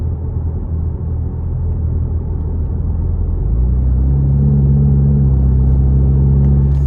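Engine of a 2026 Ford Mustang with the 2.3 EcoBoost and active performance exhaust, a loud steady low rumble from inside the car that rises into a firmer, more tonal drone partway through as load builds, with no talk.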